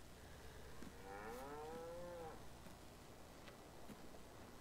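A black and white cow in a barn moos once in Farming Simulator 19, a drawn-out low call near the start, faint against a quiet background.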